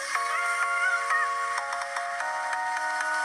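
Ringtone from a Nuu Mobile G3 phone speaker, a bright, thin, tinny melody of repeating electronic tones with steady rhythmic notes, played alone at modest volume.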